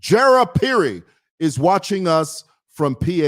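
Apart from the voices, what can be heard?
None of the usual background noises is heard.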